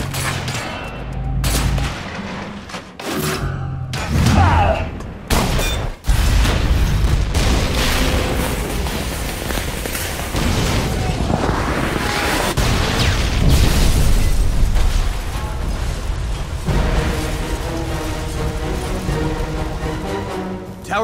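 Explosions and gunfire as a tower collapses in the Captain America: Super Soldier video game, with several loud booms and bursts early, then a long roaring rumble of crashing debris and layered game effects.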